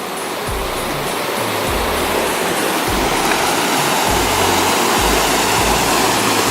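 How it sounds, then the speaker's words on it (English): Waterfall on a hike, a loud continuous rushing roar of falling water close by, steady throughout with no talk. "We made it to one of the falls"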